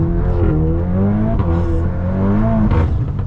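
Loud, close engine revving from a Stage 3 tuned VW MK8 Golf R, a throaty rising and falling drone with shifting pitch and no one talking.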